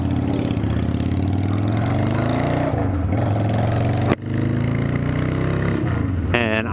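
A free motorcycle idles close by with a loud, steady mid-pitched engine drone and mechanical clatter; it dips briefly midway, then rises again in a short rev at the end.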